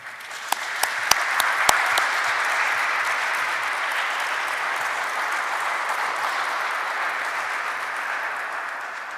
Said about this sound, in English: I think the panelists deserve a round of applause.